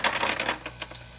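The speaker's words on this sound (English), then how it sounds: "that noise you hear in the background, that's my ice maker that I'm making ice" A quick clattering run of small hard pieces tumbling and dropping, like ice falling from an ice maker, fading into a few last clinks.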